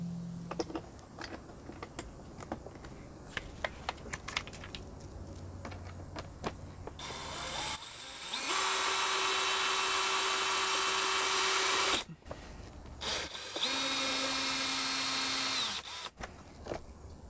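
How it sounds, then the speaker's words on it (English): A power drill drives stainless steel screws through PVC clamps while a mini split ductless unit is mounted on a wall. Two loud, sustained whirring bursts run for several seconds each, with a short pause between them and quieter handling noise before. "I'm going to go ahead and screw on our stainless steel screws through our PVC clamps"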